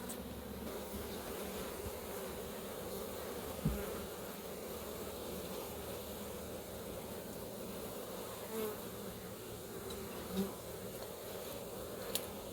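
Honey bees buzzing around an open hive during a queen replacement, a steady dense hum of many bees close by with a few brief knocks and thumps.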